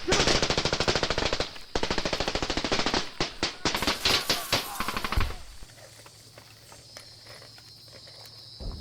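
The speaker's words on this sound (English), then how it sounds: "the company receives small arms fire from along the trail" Small arms fire rattles out in rapid, loud bursts in a jungle combat firefight from the 1966 Vietnam War, close and continuous for about five seconds before dropping away to a quieter rustling background.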